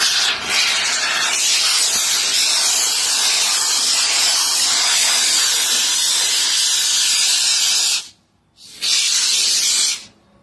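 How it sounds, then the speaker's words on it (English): A spray paint can hisses onto a planter in one long, loud, close continuous blast, then stops briefly and gives a second shorter spray. "And then just spray around in one layer."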